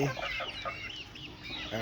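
Chickens cluck softly in short, scattered bursts amid a busy farmyard background, fairly faint and somewhat distant.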